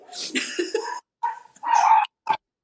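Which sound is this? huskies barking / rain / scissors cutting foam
huskies barking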